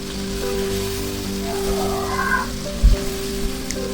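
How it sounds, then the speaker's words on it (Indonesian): Soft, steady sizzle of a blended spice paste frying in hot oil, with a faint low hum underneath and a short clunk near the end. "Lalu tumis bumbu yang sudah di blender tadi."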